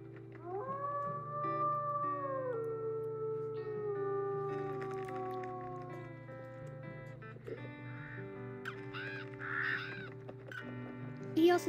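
A wolf in the game Luna's Quest lets out a long, rising and falling howl that holds for several seconds over a steady ambient drone, followed by fainter softer calls.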